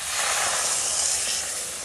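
Milk poured into a hot, spiced karela curry gives off a loud, continuous steam hiss that fills the whole short moment at close range.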